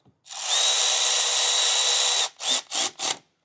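A cordless M12 power tool with a 13 socket runs a Ford 6.0 starter bolt: one long, loud whirring burst, then three short bursts as the bolt snugs tight.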